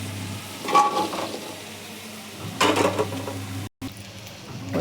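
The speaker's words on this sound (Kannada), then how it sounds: "ಈಗ ನಾವು ಬೆಂಡೆಕಾಯಿ ಹುರ್ಕೊಳ್ಳೋಣ" Okra (lady's finger) frying in a pan for sambar gives a steady low sizzle, with two louder bursts of stirring and scraping against the pan and a brief dropout in the middle.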